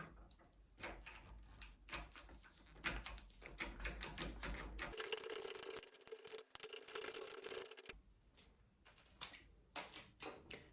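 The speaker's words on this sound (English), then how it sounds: "Now you can see there are two Phillips screws in here. I'll take those out." Phillips screws being backed out of a door latch: quiet, scratchy rubbing and turning, with short clicks and a steadier grinding stretch in the middle, all faint and close with no talking.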